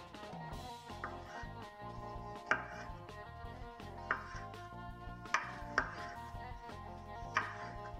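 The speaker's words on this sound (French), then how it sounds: "Maintenant, on va couper nos champignons" Mushrooms are sliced with a kitchen knife on a board during pizza preparation, giving a steady series of close, sharp chops with a few louder knocks over quiet background music.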